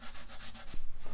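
Sandpaper scrubbing a guitar's oil finish, a close, steady rasping rub in quick back-and-forth strokes that grows a little heavier toward the end.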